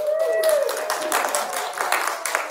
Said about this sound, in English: Kids, give yourself a round of applause.